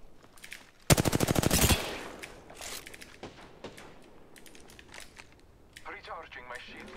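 A short, loud burst of rapid automatic gunfire in a video game, its evenly spaced shots rattling for under a second, followed by scattered lighter clicks and beeps while a voice talks.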